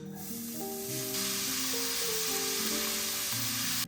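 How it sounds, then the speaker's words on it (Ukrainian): Minced meat sizzles and crackles in a hot pan with a little oil, a steady close frying hiss throughout. "у розігрітій сковорідці на невеликій кількості олії обсмажую фарш"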